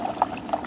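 Water is poured into a bowl for two dogs, giving short, close liquid splashes and gurgles over a brief moment with no talk.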